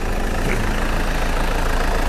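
A 2001 Dragon single-cab pickup truck engine in good condition with good compression idles steadily and loudly nearby, a continuous low rumble with no pauses and no voices.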